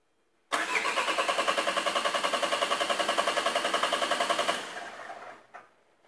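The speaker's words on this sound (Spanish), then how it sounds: "Voy a dar arranque y vamos a observar si tenemos señal." A car in a repair workshop cranks over on its starter during a crankshaft sensor check, a fast rhythmic chugging that runs steadily for about four seconds before easing off and stopping.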